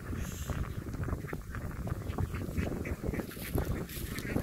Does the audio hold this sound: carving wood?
no